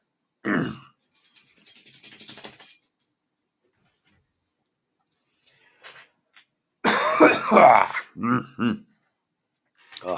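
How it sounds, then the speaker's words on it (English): A few deep, chesty coughs come in two bursts separated by a quiet pause, close and loud, with a short throat-clearing grunt in between. "Still got this nice meaty cough."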